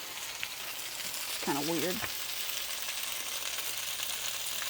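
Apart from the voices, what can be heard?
meat sizzling in frying oil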